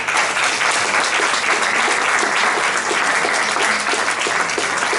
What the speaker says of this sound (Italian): Marcello Colasotto, un applauso per favore.